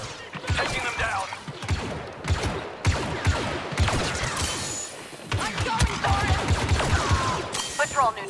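Rapid bursts of blaster fire from a Star Wars Battlefront II battle on Yavin 4, repeated sharp shots over about eight seconds with a busy combat backdrop, explosions and impacts, while voices call out between volleys.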